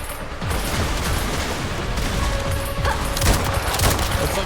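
Rapid gunfire in the video game Resident Evil Requiem, a dense, continuous barrage of shots and booms that stays loud and busy throughout.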